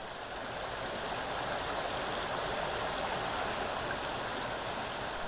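A mountain stream by Baekdamsa Temple on Seoraksan rushes over white pebbles in a steady, dense wash of water noise, unbroken and fairly loud throughout.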